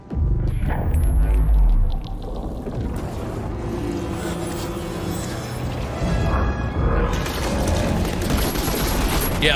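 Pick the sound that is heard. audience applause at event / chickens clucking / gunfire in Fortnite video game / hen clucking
gunfire in Fortnite video game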